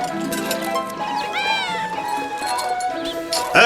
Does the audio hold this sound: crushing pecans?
no